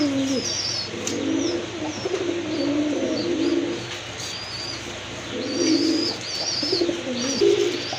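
A pair of pigeons coos steadily from close by, soft repeated low throaty calls running through, with light chirps from other birds in the background and no talking.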